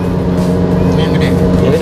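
Car engine with a large aftermarket exhaust idling close by as a steady low rumble, while people talk over it.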